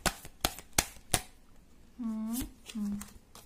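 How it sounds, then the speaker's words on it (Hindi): Tarot cards being shuffled by hand, four sharp, distinct riffles in quick succession, followed by someone talking briefly. "कार्ड्स कुछ शफल करती हूँ मैं यहाँ पे"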